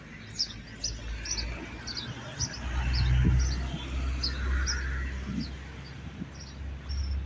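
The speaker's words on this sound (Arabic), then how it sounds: "سمعوا العصافير تزقزق" Small birds chirp outdoors on a cold day in Sidi Bel Abbès, giving short repeated tweets at moderate distance over low wind and traffic rumble.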